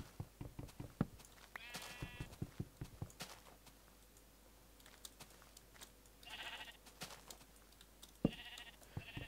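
A sheep in a video game bleats three times, wavering cries spaced apart, among scattered light clicks and thumps in an otherwise quiet setting.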